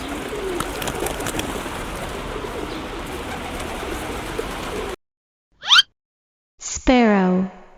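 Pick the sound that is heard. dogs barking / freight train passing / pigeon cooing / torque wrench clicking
pigeon cooing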